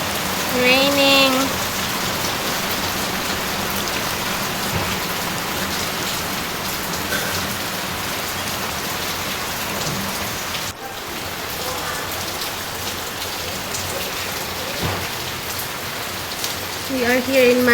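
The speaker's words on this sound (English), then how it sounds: "Raining." Steady rain falls on surfaces in a garden in India, a continuous close hiss of drops with no break, while a few faint voices come and go in the background.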